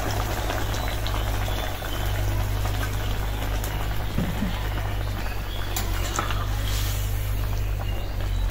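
Fish curry broth poured into a pan and cooking, a loud, close, steady bubbling boil with a constant low hum underneath, no talk.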